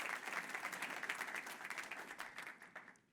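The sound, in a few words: audience applause for the speaker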